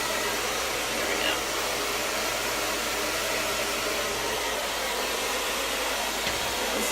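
A hair dryer on its cold shot setting blows a loud, steady, close airflow hiss that runs unbroken the whole time, with no talk over it.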